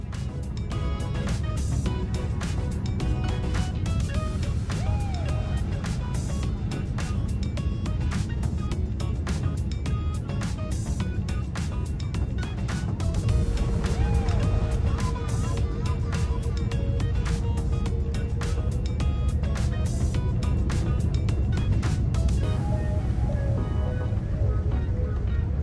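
Steady, loud cabin rumble inside an Air Europa Boeing 787-9 as it descends and approaches, a broad constant roar with a brief tonal whine partway through and no voices.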